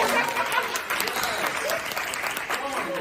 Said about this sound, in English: Give her a round of applause real quick.